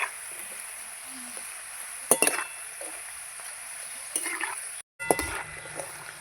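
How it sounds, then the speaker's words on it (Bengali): Nimki pastries frying in hot oil for a second time, with a steady bubbling sizzle broken by clinks and scrapes of a stirring utensil against the pan at intervals. "এবার আমি এগুলোকে ফ্রাই করে নেব ভালো করে"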